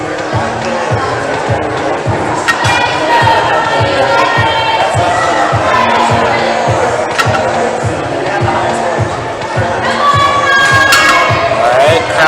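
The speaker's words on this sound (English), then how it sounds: "Alright, crowd cheering him on." Spectators at a provincial top rope climbing final cheer and shout steadily for a climber on the wall, a loud, close crowd roar with whoops, a regular thumping beat underneath and voices talking throughout.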